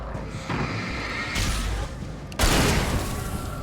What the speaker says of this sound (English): Would you like to come down here so I can shoot you with a gun?